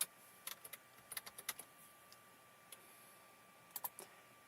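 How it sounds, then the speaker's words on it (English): Keys clicking on a computer keyboard while typing in AutoCAD, a quiet burst of quick taps followed by a pause and a few more scattered keystrokes, close and faint. "So let's type"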